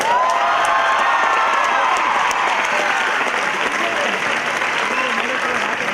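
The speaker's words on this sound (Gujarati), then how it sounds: "આના માટે બધાએ એકવાર ઊભા થઈને તાળી પાડવી જોઈએ." Sustained applause and cheering from a large audience at an NGO's annual day celebration, dense clapping with crowd shouts, loud and continuous throughout.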